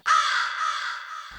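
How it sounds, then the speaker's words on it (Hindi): A crow gives one long, loud, harsh caw held for over a second, close and clear with no voices over it. "कौआ"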